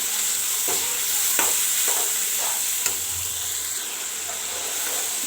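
Spices frying in a hot pan with a steady sizzle, broken by several sharp scrapes and taps of a spoon stirring them, close and fairly loud throughout.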